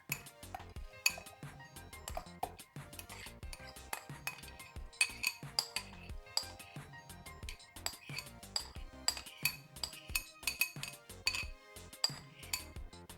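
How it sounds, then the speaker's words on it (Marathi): Ingredients and utensils clink repeatedly against a mixer bowl while soaked moong dal and rava are added for appe batter, giving sharp, close metallic and glassy taps in an irregular rhythm with no talk. "आता आपण हे सगळं मिक्सरच्या बोलमध्ये टाकून घेऊया"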